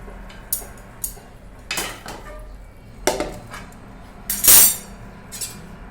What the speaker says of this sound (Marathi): आता मी प्लेट मध्ये काढत आहे